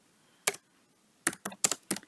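Computer keyboard typing: one isolated keystroke, a pause, then a quick run of several close, crisp clicks, with no voices.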